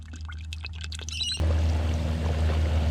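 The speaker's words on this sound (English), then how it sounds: "the chips are bubbling away nicely" A steady, dense crackle and sizzle of chips deep frying in bubbling oil in a Bedourie camp oven, loud and close, starting abruptly partway through after some brief clatter.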